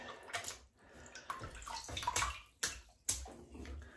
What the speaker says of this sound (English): wet the brush.